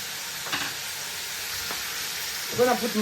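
Onions frying in oil in a pot for oxtail soup, a continuous close sizzle with a few soft stirring knocks and a brief louder crackle toward the end.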